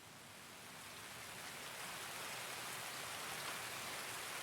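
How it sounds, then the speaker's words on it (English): Steady rain in the shooter game Escape from Tarkov on the Streets of Tarkov map, a dense, even hiss of falling drops that swells slightly and holds constant with no other sounds. "let me get rid of this rain"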